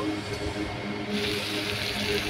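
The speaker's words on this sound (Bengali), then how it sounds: "আর এখান থেকে আবার একটু জল দিয়ে দিচ্ছি।" Water is poured into a pan of fish curry, a continuous close splashing gush that grows slightly brighter partway through and runs steadily to the end.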